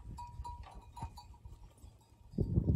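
Lactating goats in a milking pen stir and shuffle, with scattered faint calls and knocks, then a louder burst of hoof and body noise near the end.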